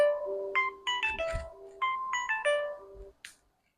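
A phone ringtone plays a bright electronic melody of quick tones for about three seconds, then cuts off, followed by a brief faint rustle.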